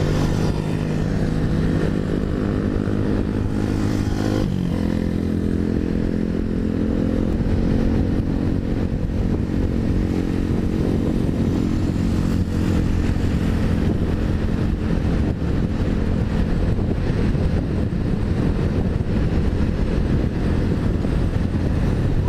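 Racing motorcycles rev and roar past near the Marlin Statue in Kota Kinabalu, a loud, sustained engine drone with rising and falling pitch and no pauses.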